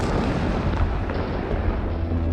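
A deep, roaring explosion rumble fills the whole short stretch, loud and sustained with no voices over it.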